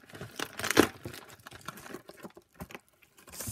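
A plastic mailer package being opened by hand, with a string of close crinkling, rustling and tearing sounds in irregular bursts, loudest near the start and fading to scattered rustles.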